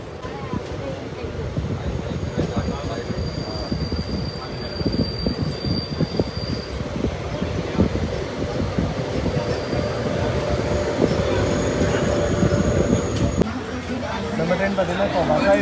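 The 19058 Mangaluru Surat Express runs on rails, a loud steady rumble and rhythmic clatter of wheels with a sustained squeal overhead and a voice talking on board.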